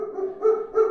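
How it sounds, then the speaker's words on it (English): A dog barking twice in quick succession, the short barks fairly close and moderately loud, with a low background hum. "it must be my dog."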